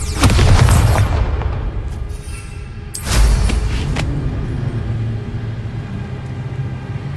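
A Bombarda spell explosion in Hogwarts Legacy, a loud booming blast with a sharp crack and rumble, followed by a second heavy boom about three seconds later that decays into a lingering low rumble.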